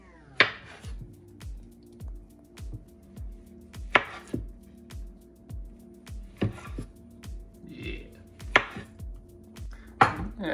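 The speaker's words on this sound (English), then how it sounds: "And how are we slicing our bananas?" Thin plantain chips being sliced for frying: a steady run of sharp knife chops on a cutting board, each one crisp and close, coming roughly every half second with a few louder strokes and no voices.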